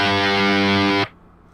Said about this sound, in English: It actually just works like a Boss DR1. It's your plain old distortion.